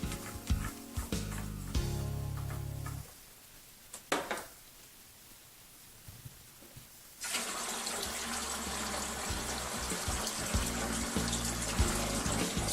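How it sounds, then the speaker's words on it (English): Water splashes and trickles steadily from the fill port of a water neutralizer filter during servicing, fading to a quiet stretch before a stronger, continuous flow resumes and runs on to the end. "you will get a little water from the fill port"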